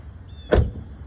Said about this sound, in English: You see the soft close door feature work on it, and the doors lock and unlock as they should now.